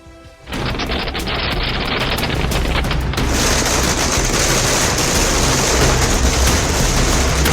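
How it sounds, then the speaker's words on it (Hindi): Fireworks going off at a party office celebrating an election win in Delhi, a dense, continuous barrage of loud bangs and crackles that starts after a brief quiet moment and keeps rolling without pause. "इसके साथ ही आतिशबाजी की जा रही है।"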